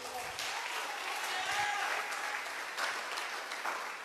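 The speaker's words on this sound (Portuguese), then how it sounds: "diga aleluia e aplauda Jesus" Church congregation at a celebration service applauding, a steady wash of clapping from many hands, fairly faint and distant, with a voice speaking over it.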